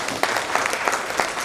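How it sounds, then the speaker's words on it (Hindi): Audience applause at a motivational seminar, a dense, steady wash of many hands clapping with small swells, fairly loud and without speech over it. "एक बार इनके लिए जोरदार ताली हो जाए सभी के लिए"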